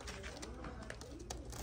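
Flying pigeons kept in a loft give soft, low cooing calls that sit faintly under steady background noise, close by but quiet, over a short stretch.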